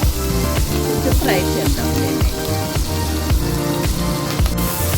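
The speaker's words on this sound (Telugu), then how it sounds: "నూనె వేసుకున్నాం కదా ఇది మిర్చి కరివేపాకు ఉల్లిపాయ వేసేసి" Green chilies, curry leaves and chopped onion sizzle steadily in hot oil for an instant prawn pulao, a continuous near frying hiss with stirring clatter and a voice talking over it.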